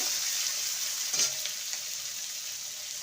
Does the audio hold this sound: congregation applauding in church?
no